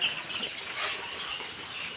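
Chickens clucking in a crowded poultry shed whose flock has been hit by Gumboro disease: a steady, close-up chorus of bird calls over a constant broadband hum, with no talking.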